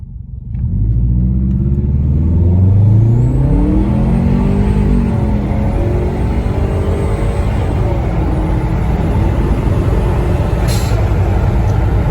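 A turbocharged Subaru Outback XT with an adjustable blow-off valve revs and accelerates in a steady, loud engine rumble that rises in pitch, with a brief hiss near the end when the throttle lifts.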